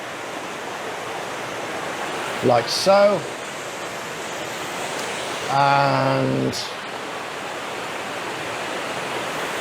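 Water flows steadily in a continuous wash of rushing noise throughout, with someone briefly speaking over it twice.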